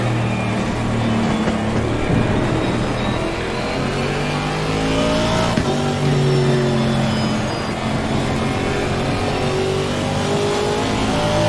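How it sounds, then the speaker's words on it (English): An Aston Martin 2019 race car in Assetto Corsa Competizione at Spa Francorchamps in rainy conditions, with ABS and traction control working: a loud, continuous engine roar with rising and falling revs, steady throughout, with no voices. "ABS and the traction control sounds in that car"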